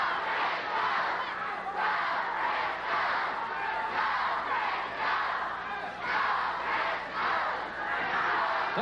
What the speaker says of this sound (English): And the crowd is chanting again.